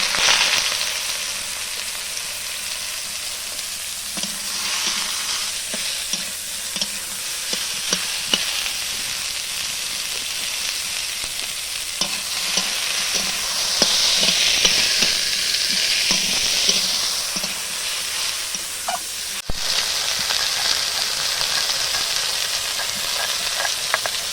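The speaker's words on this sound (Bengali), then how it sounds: "কড়াইতে তেল দিয়েছি, এই যে কালো জিরে দিয়ে দিলাম। এই দেখো আলু আর পেঁয়াজ কুচিয়ে রেখেছি, আলু পেঁয়াজ দিয়ে দিচ্ছি।" Chopped potatoes and onions hit hot oil with nigella seeds in a pan, a loud, dense sizzle with repeated stirring scrapes and clicks, swelling in the middle and then settling into a steady fry.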